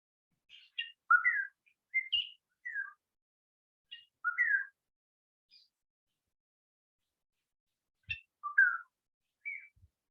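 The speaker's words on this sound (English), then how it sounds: "So it is black-headed oriole." A black-headed oriole calls in short, clear, liquid whistled phrases, repeated in bursts with quiet gaps between them, fairly distant and alone.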